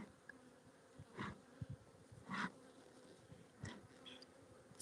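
Bees buzz around an outdoor beehive being checked in fall, a faint steady hum with a few louder passes as individual insects fly close by.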